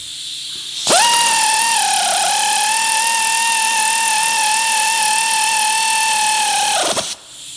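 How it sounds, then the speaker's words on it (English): A power driver tightens a half-inch bolt on a Fulton F2 boat trailer winch fitted to a Boatmate trailer, giving one steady, loud, high whine that holds for about six seconds before cutting off, with no talking. "So now all I gotta do is just tighten this bolt down"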